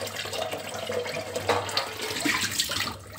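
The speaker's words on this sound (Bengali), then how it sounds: "চালটা ধুয়ে নিচ্ছি এখন" Tap water runs steadily into a sink while rice is rinsed, a continuous close splashing broken by brief sharper splashes, with no talking.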